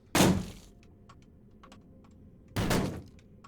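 Two heavy, booming thuds about two seconds apart as a thin man bangs on the walls in Cataclysm: DDA, with faint scattered clicks in between.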